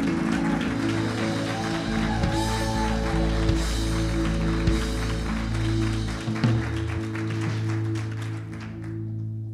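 A church congregation applauds at a conference of Église le Roi Jésus in Toulouse, a steady wash of clapping from many hands filling the room at moderate loudness, tapering off near the end.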